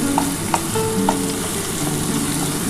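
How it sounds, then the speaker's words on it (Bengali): Onions frying with duck eggs in a pan, a dense steady sizzle with a few light clinks of stirring, close and without talk. "আগে প্রথমে একটুখানি পেঁয়াজটা ভেজে নিচ্ছি।"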